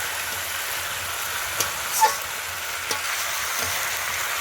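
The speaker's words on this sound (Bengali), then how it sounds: "মাংসের সঙ্গে এভাবে নাড়াচাড়া করে নেবেন মশলাটা" Country chicken frying with spices, stirred in a pan; an even sizzling hiss with a few scraping clinks of the spatula, no voices.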